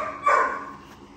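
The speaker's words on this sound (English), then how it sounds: "I'm gonna put these puppies back up so these dogs can be quiet." A single short bark from a dog among dogs and puppies kept outdoors at night, one close yelp fading into a quiet background.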